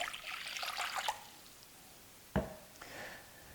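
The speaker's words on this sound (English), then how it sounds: "I'm going to start with a couple cups of water." Water is poured out for a yeasted bread dough in a brief splashing stream of about a second. A quieter pause follows, then a sharp clunk, like a cup being set down in a kitchen.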